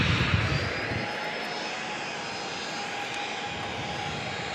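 A Southwest jet departing San Diego International Airport gives off a loud, steady engine roar with a faint high whine, a broadband rumble that holds level throughout with no voices.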